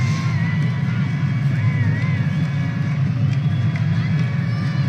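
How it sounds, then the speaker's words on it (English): A cricket stadium crowd at a Nepal Premier League match roars in a steady, dense wall of cheering and babble, loud and continuous throughout. "The crowd's going ecstatic"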